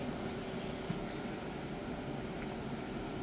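A constant mechanical hum and hiss from an AC service machine removing refrigerant from a Ford's air conditioning system, steady and unchanging throughout, with no voices.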